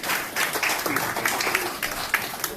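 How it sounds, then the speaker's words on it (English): Applause from a crowd at a 2022 general election campaign rally, a steady wash of clapping filling the whole moment, with some speech or cheering mixed underneath. "A round of applause for Govind."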